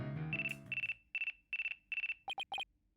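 A telephone rings in the Apollo Justice: Ace Attorney video game, sounding as a loud series of five sustained electronic tones followed by three quick chirps, coming right after a brief musical passage.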